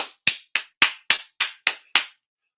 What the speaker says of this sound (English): Can we all get a round of applause for Marlo?